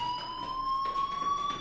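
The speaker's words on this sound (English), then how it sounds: "do you hear that fire alarm? That means you should be outside." A fire alarm rings steadily in the video game Life is Strange, a continuous electronic tone with faint pulsing texture behind it, heard alone at moderate loudness.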